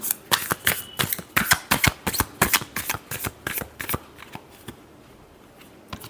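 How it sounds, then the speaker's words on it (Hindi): Tarot cards shuffled by hand, a rapid series of crisp riffling snaps in quick bursts, close and loud, tapering off into a few final taps after a pause. "Last shuffle."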